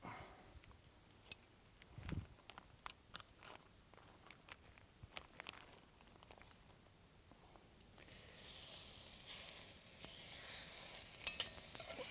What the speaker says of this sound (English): So I'm going to start by taking the sausage and putting it in the pot.